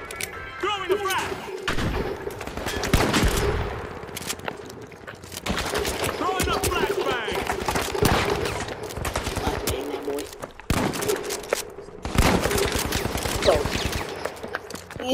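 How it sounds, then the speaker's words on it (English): Dense bursts of gunfire from a big firefight in the video game The Finals, rapid automatic volleys and heavy thuds coming in waves, loud and close, with voices talking over them. "In the biggest gunfight ever, bro."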